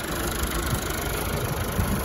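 Tractor engine running steadily in a chile field during land preparation, a continuous low mechanical drone with rough, slightly knocking texture, close and constant throughout with no talk.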